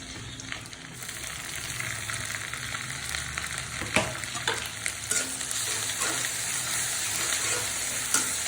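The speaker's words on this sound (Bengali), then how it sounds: "আমি এখন পেঁয়াজ বাটা দিয়ে দিচ্ছি" Onion paste frying with chicken liver in hot oil, a steady broad sizzle punctuated by a few sharper spatters and occasional stirring scrapes, close and continuous with no voices.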